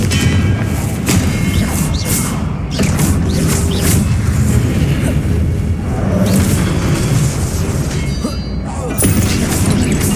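Confringo fire spells cast in a Hogwarts Legacy battle burst into loud, booming explosions with heavy thuds and crackling debris, packed close together over a dense, continuous roar of game combat.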